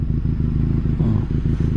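A Benelli 502C, a 500cc motorcycle, accelerates with a steady, loud engine drone close by, its low throbbing tone holding level through a brief pull.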